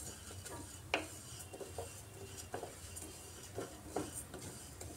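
Moong dal being lightly fried in mustard oil in a pan, with soft, faint stirring scrapes and occasional utensil clinks over a low, steady background.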